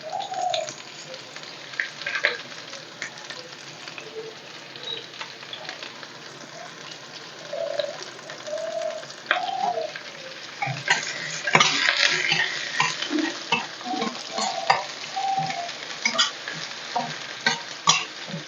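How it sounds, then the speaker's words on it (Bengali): Chopped onions fry in a pan for a Bengali lunch, with a soft sizzle under repeated scraping and clinking of a spatula stirring against the metal, the stirring growing busier midway, with occasional bird chirps in the background. "এদিকে পেঁয়াজ ভাজা হয়ে যাচ্ছে,"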